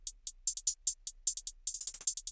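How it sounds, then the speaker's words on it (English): A programmed hi-hat pattern in a beat: crisp, bright ticks and short open hits in a steady, syncopated rhythm, with a quick flurry of closely spaced hits near the end, heard alone. "And then I have another hi-hat pattern of my own cooking."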